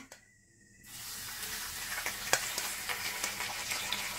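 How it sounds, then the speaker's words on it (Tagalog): Tilapia fish drops into hot cooking oil after a brief quiet moment, setting off a steady close sizzle and crackle with small popping spatters that continues to the end. "So, mainit ng ating mantika. Lagyan na natin ang ating tilapia."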